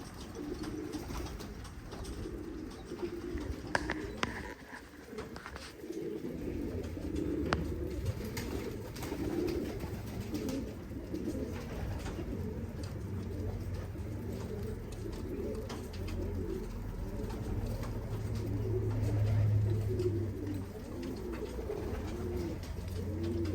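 Pigeons in a loft coo steadily in the low range under a continuous bed of soft rustling and ambient noise, with no talking heard.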